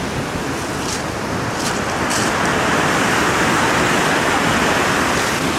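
A steady, loud roar of rushing water fills the whole stretch, broad and unbroken like a nearby waterfall, with no voices.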